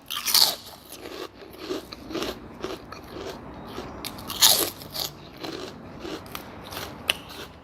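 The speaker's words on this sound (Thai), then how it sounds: "ผักกรอบๆ" Crunchy fresh vegetables, eaten alongside a bowl of pork noodle soup with fried garlic, are bitten and chewed up close in a quick series of sharp, crisp crunches, with no talking.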